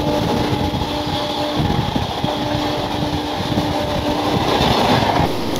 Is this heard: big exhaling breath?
no